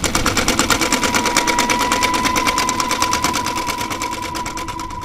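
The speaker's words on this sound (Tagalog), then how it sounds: "narinig ko yung tunog ng mga makina ng sapatos" Loud, rapid mechanical clattering from shoe-making machines running continuously, a steady rattling rhythm with a faint high whine underneath, gradually easing slightly.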